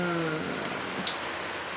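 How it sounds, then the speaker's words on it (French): Steady rain patters on an awning in Tenerife, a constant close hiss with a brief louder drip or tap partway through; low voices murmur faintly underneath. "Et là, ça continue de pleuvoir."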